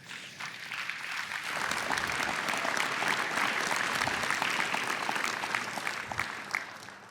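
Applause from a conference audience at a tech talk, building quickly into steady clapping from a sizable crowd and holding for several seconds before tapering slightly.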